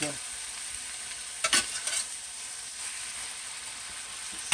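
Shrimp frying with vegetables in a pan for shrimp fried rice, a steady close hiss of sizzling broken by a few brief scraping stirs of a utensil.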